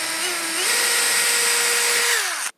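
A power drill whirs steadily up close while pre-drilling partway into a wooden slat of a wood-and-metal compost bin, its motor pitch rising once under load and then winding down abruptly as it stops.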